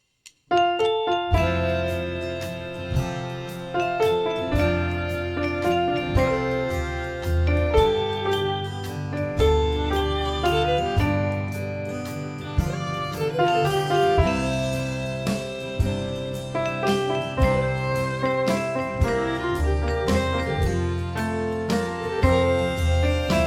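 A melody from the Up theme played over its backing track, a bright tinkling tune with a steady bouncing accompaniment, continuous and clear without any voice.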